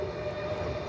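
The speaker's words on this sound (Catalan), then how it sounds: "ens arriba aquí a Puigcerdà el primer tren que ve de l'Hospitalet" Train pulling into Puigcerdà station from l'Hospitalet, five minutes late; a steady rumbling drone with a sustained tonal hum, close and continuous, no talk.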